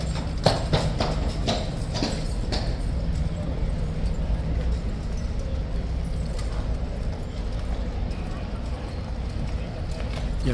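Hooves of a grey horse ridden by a guard captain clip-clop steadily on a hard surface at close range, with a steady outdoor background and voices talking over it.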